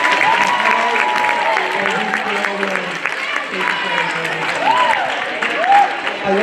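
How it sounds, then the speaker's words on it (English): An audience at a school drum show claps in a sustained, fairly loud round of applause, with shouts and cheering voices rising over it and people talking throughout. "Sharon Kiefer, please give me a big round of applause."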